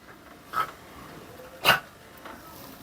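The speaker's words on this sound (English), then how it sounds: "don't know if you can hear that, but the dogs are up" Dogs give two short, separate barks at a moderate distance, with quiet background between them.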